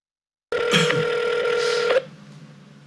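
Telephone dialing opens a recorded real estate sales call, a quick run of touch-tone beeps over about a second and a half, clear and close, then a faint line hum.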